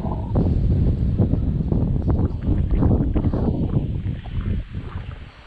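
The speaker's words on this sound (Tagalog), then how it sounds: "Grabe, hangin." Strong wind gusting outdoors, a loud steady broadband roar buffeting close to the microphone throughout, easing slightly toward the end.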